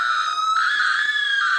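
A cartoon lion lets out a loud, sustained high-pitched scream that runs unbroken for under two seconds, dominating the sound with no talking over it.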